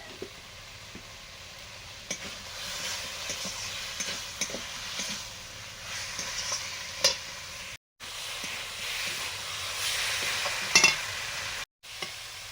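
Thin-cut potato strips with salt and spices sautéing in a pan, a steady sizzle with repeated scraping stirs and utensil knocks, two brief silent gaps, no talking.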